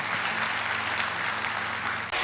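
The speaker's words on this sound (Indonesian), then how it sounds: "Beri tepuk tangan yang meriah buat Tuhan." A church congregation gives loud applause during an online worship service. The clapping is a dense, even wash of many hands over a low steady hum, ending abruptly.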